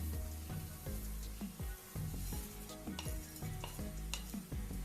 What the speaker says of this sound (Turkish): Bunları yakmadan güzelce kavuracağız fazla kavurmamıza gerek yok. Şimdi ben pirinçlerimizi koyuyorum.